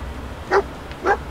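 A dog in the Fallout 4 video game gives two short, close barks or yips about half a second apart, over a low steady game background with no talk.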